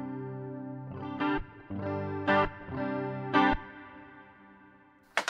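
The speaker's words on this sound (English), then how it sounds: "let's throw on some reverb on it" An electric guitar through Helix Native software plays a few sustained chords, each ringing out with a lush, shimmering wash of reverb that lingers between strums.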